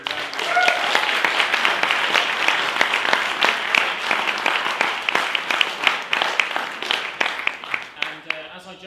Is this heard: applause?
yes